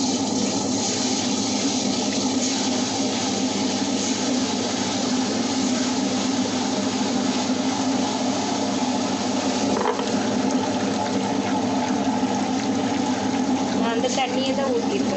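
Water is poured into a wet grinder in a home kitchen during idli batter preparation, producing a steady, continuous splashing gush under a low mechanical hum, close and fairly loud, with a brief clatter near the end.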